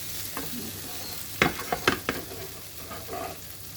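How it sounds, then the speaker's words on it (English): Tiny sardines frying in oil, a soft steady sizzle broken by a few sharp clatters and crackles as the fish are turned over in the pan. "Now let's fry again another 5 minutes on the other side to make it crispier"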